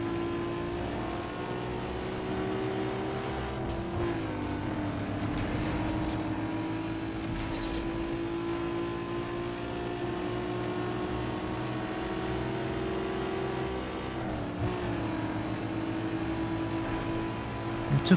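Race car engines drone steadily in Need For Speed Underground 2 during a final lap, a sustained mid-level roar with shifting pitch as cars accelerate, no talk over it.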